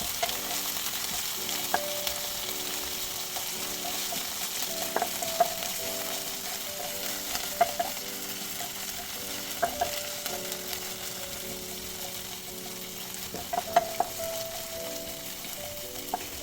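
Coriander leaves and mint fry in ghee and oil with a continuous soft sizzle, while a utensil stirs and taps the pan now and then in a steady rhythm. No one speaks.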